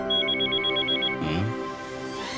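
A telephone ringing with a rapid trilling electronic bell pattern, followed by a short lower tone, fairly close and clear.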